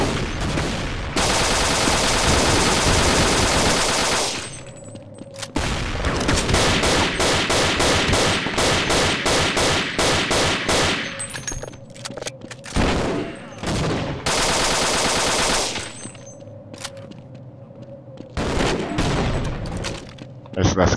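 Rapid bursts of gunfire from Half-Life: Back to Xen, loud sustained volleys and fusillades that stop and restart several times, with short gaps and heavier shots between them.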